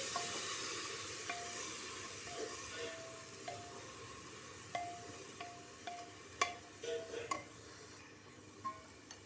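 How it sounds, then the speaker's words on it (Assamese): Greens are tossed into a frying pan and stirred, giving a faint, soft sizzle with intermittent light scraping knocks that grow more frequent toward the end. Quiet and close, with no voices. "এয়া মই শাকখিনি দি দিলোঁ শাকখিনি দি পেলাই অকণমান লৰাই দিছোঁ"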